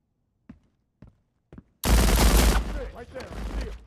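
Gunfire in the Transience video game starts with three faint, evenly spaced taps, then erupts into a loud, sustained burst of rapid shots that gradually tails off.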